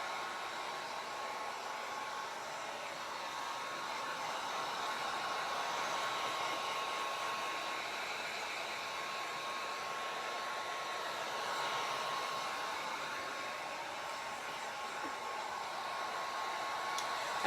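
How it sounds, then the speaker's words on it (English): A hair dryer runs steadily at close range, blowing over primer paint on an old mirror being turned into a chalkboard, a continuous even whoosh with no talking. "I'm just drying this primer"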